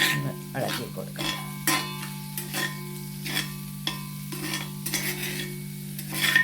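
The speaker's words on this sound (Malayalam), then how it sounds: "ഒന്ന് ഇളക്കി കൊടുക്കാം" Mussels frying in a pan are stirred with a utensil that scrapes and taps in irregular strokes over a soft sizzle and a steady low hum, close by, with no talking.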